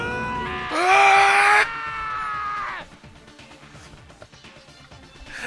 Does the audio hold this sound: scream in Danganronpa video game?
yes